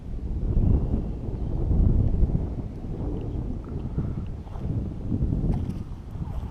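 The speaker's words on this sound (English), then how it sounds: "A little bit windy." Gusty wind blusters outdoors at a model airplane flying field, a low rumbling microphone buffeting that rises and falls in several waves, fairly close and steady, with no voices.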